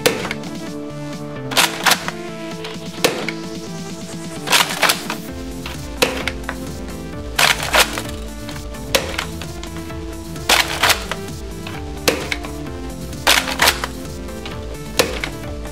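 Nerf Retaliator toy blaster with brass modifications firing foam darts during a chronograph test, loud sharp mechanical shots repeating at a steady pace, each a crisp snap with a brief rattle, close and alone.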